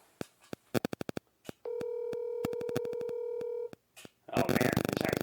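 A phone call placed on speakerphone: a string of keypad beeps, then a long steady ring or dial tone, more clicks and beeps, then a burst of noisy line sound as the call connects, fairly close and clear.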